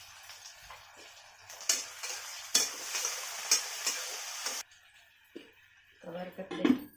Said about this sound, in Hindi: प्याज को लाल होने तक पकाएंगे।